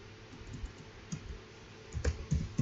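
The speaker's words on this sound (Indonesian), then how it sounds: "keyboard" Scattered clicks of typing on a computer keyboard, sparse and uneven at first, then a quicker burst of keystrokes near the end, close against a faint steady room hum.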